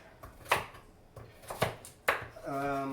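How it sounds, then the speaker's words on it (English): Three sharp knife chops through carrots land on a cutting board at a slow, uneven pace, followed by a voice starting to speak. "I'm just chopping the carrots"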